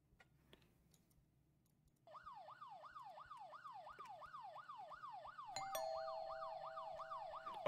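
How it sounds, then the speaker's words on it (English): Police siren in the horror video game Fears to Fathom, wailing in steady repeated rising-and-falling sweeps that begin abruptly and continue to the end, a second higher tone joining partway through, with faint clicks underneath. "That's the sound of the police."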